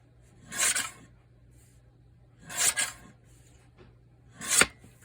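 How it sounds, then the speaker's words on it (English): Scissors cut paper strips in three separate, close bursts of crisp rasping snips, each lasting about half a second, with quiet pauses between them and a faint steady hum underneath. "And I'm just going to go ahead and cut the strips now."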